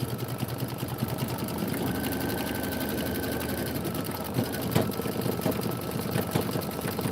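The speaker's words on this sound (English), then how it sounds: "Two minutes of stitching." An embroidery machine stitching a Kimberbell tiling scene tile hums steadily with a fast, even needle rhythm, a close continuous mechanical whir with faint clicks and no talking.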